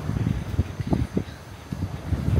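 Gusty wind buffets a beachfront campsite, rumbling low and steady across the microphone in uneven bursts and swells throughout.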